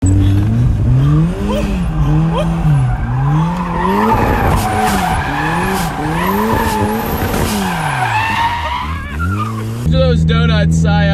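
Mazda Miata spinning donuts, its engine revving in repeated rising and falling sweeps as the tires squeal and skid loudly and close for several seconds, then a hard pull at the end with a voice briefly heard.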